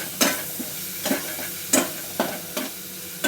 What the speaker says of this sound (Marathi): शेकून घेतल्याच्यानंतर मीडियम गॅसवरच मी हे परतून घेतलं